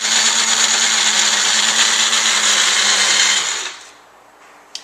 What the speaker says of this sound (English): This is my magic bullet blender.